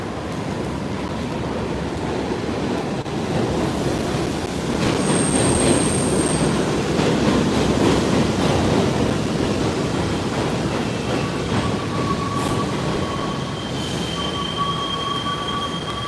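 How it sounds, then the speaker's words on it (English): A New York City subway train passes in South Brooklyn, its wheels squealing on the rails over a loud, steady rumble that lasts the whole stretch. "Here comes a subway."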